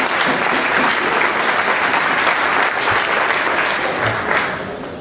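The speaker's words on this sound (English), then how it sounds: "please give them a round of applause" Sustained, loud applause from a gala dinner audience fills the room, a dense wash of clapping that holds steady and then begins to taper off toward the end.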